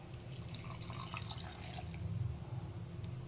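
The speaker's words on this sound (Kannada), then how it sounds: "ನೀರು ಹಾಕ್ಕೊಂಡಿದ್ದೀನಿ" A thin stream of water trickles and drips into a mixer grinder jar, steady and close, with low background hum and no talking.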